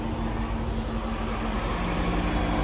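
A supercharged 4.2-liter V8 in a 2003 Jaguar XKR idles steadily nearby, a low even engine hum holding constant with no revs or talk over it.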